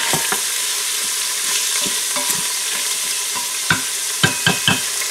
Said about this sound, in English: I can hear it sizzling now, so we'll add the chicken in.